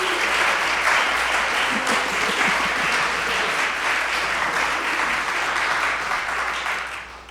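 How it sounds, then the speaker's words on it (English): An audience at a bluegrass concert at Meetinghouse Arts gives sustained, dense applause for a birthday, a steady roar of clapping that carries on evenly and fades slightly at the very end. "I'd love to give him a round of applause"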